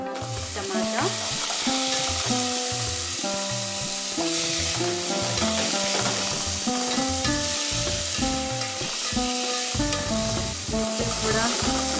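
Tomato sautés in a pan with a steady, bright sizzle and occasional stirring, heard beneath tuneful background music throughout.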